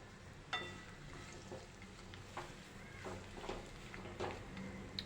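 Chopped dates roasting in hot ghee in a kadai, a soft sizzle with occasional stirring scrapes and light clinks at an even, quiet level.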